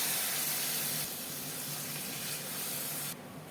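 Water pours steadily into a pan of chickpea masala being cooked with ground coriander, cumin, turmeric and red chilli. The pour runs continuously for about three seconds and then softens, and no one speaks.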